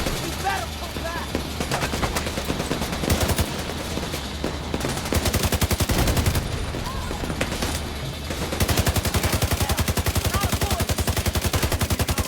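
Rapid automatic gunfire and bursts of shots from the shooter game The Division 2, sustained rattling volleys with short gaps, loud and close, mixed with in-game voices.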